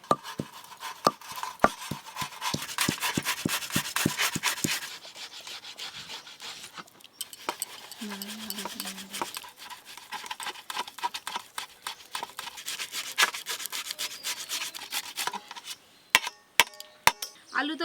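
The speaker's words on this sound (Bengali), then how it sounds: "এবার আলুর পুর তৈরি করব, তার জন্য আলু ভালো করে গ্রেট করে নেব।" Potatoes grated by hand for a spiced aloo kulcha filling, a rapid run of rasping scrapes in bursts, with a pause midway before the rubbing strokes pick up again close by.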